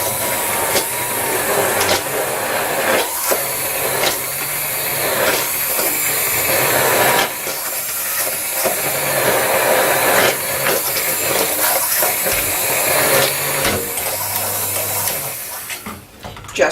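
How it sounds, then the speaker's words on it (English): A stick blender purees an onion béchamel sauce, a loud continuous motor whir with churning liquid that steadily drones across the whole stretch and shifts slightly in pitch as it moves through the pot. "I'm going to bring my bar mix over here and liquefy all that"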